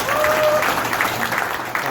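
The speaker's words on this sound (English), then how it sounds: "Let's give a round of applause." Audience applause at an air hockey world tournament awards ceremony, continuous clapping throughout at fairly loud level, with some voice-like sounds mixed in.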